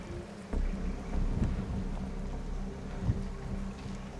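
Heavy rain pours steadily during Hurricane Melissa in Black River, Jamaica, a dense continuous wash with low rumbling gusts and occasional louder thumps, close and unbroken throughout.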